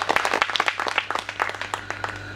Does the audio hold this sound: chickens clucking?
no